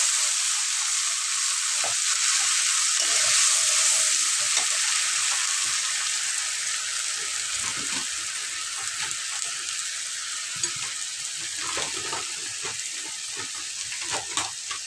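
Ginger, garlic and green chili paste for a jackfruit and shrimp curry frying in oil, a dense continuous hiss with faint stirring scrapes and small pops near the end.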